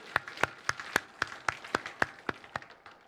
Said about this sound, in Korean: 그 하나님께 우리의 감사 영광의 박수 한번 올려드리도록 하겠습니다.